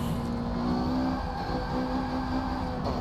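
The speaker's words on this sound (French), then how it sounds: "On entend bien les pneus qui chauffent là." Simulated race car from Forza Motorsport 7, a Mitsubishi Eclipse, drives hard with a steady loud engine drone and a high tyre squeal from heating tyres running through most of the stretch, with no talk.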